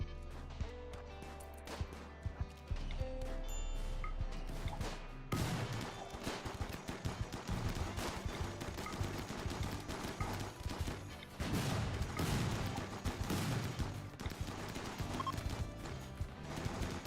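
Turrets fire at raiders in the RimWorld video game, a dense, continuous rattle of rapid shots and impacts that starts after a brief quieter opening and stays loud throughout.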